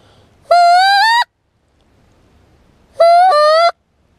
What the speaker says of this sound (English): Right there's a wood duck.